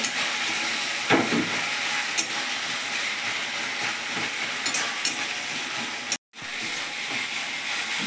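Chilli paste and a whole chopped tomato frying in oil for a chicken curry, a loud steady sizzle with scraping stirs and occasional spatters, a brief dropout near the end, no talking.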